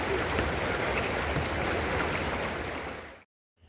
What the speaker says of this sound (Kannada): ಇದು ಹಿಮ ಕರಗಿ ಬರುವಂಥ ನೀರು